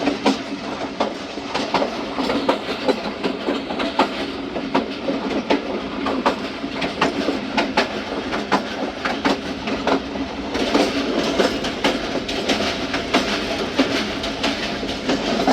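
The Thal Express runs steadily on the rails with a continuous rumble and repeated clickety-clack of the wheels over joints, loud and close from inside the last coach, with no voices.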